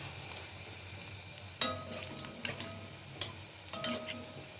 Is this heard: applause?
no